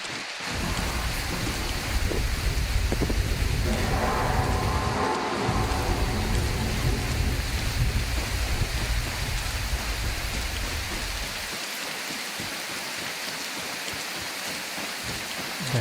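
Rain and thunder in the video game Prologue Go Wayback: a steady, loud hiss of rainfall runs throughout, with a deep rolling rumble of thunder swelling through the middle, then easing back to rain alone.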